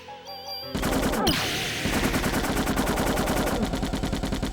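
Rapid automatic gunfire from the Parasite Eve video game comes in continuous bursts at a steady fast rhythm, loud and dense. Game sound effects play over it, with no voices present.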